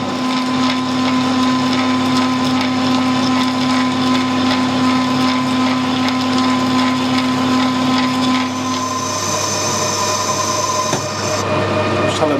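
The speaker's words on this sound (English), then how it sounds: "This is a 15-16 drill" A 15/16 drill boring into a brake drum mandrel on a machine, a loud steady whine with a sustained hum and a pitch shift near the end as the cut changes.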